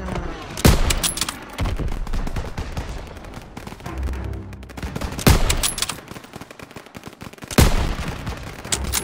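Rapid bursts of gunfire from a Call of Duty WWII battle on the Stronghold map, with sharp loud shots near 0.7, 5.3 and 7.6 seconds over dense continuous battle noise, shouted voices mixed in.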